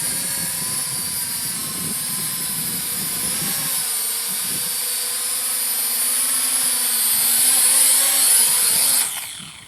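A Syma X9 or JJRC H23 RC flying car drone runs its small propellers in a steady high-pitched whine with a low rattle under it, swelling louder toward the end before it cuts off sharply.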